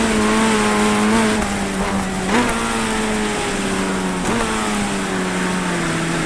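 Simulated race car sliding sideways through a corner in a wet, rain-soaked iRacing race, its engine droning steadily with pitch dips and swells as the throttle is worked, loud and continuous with no talk.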